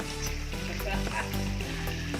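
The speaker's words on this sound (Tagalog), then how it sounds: "meron tayong prito isda" Fish frying in hot oil in a home kitchen, a steady close sizzle running throughout with faint voice-like tonal sounds mixed in.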